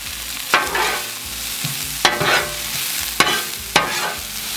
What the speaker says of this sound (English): I'm gonna get a little oil down on the griddle, throw some white onion there, and our mushrooms.